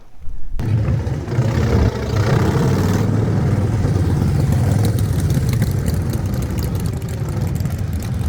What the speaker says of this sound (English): Chris smoking his tyre.